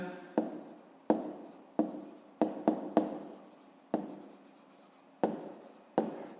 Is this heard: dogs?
no